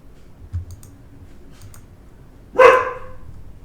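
A single short bark from a dog in a Nancy Drew video game, Secret at the Water's Edge, sounding loud and close against a quiet background.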